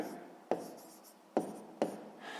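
Pen strokes on paper during a sixth-grade maths lesson, a soft continuous scratching with three sharp taps as the pen meets the page, close and fairly quiet, no voices.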